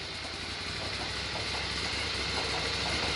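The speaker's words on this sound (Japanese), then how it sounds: "普通にアイドリングしちゃう" Ducati M696 motorcycle engine idling on its own while still cold, a steady low mechanical hum with fine rapid pulsing, unchanged throughout and close by, with no speech.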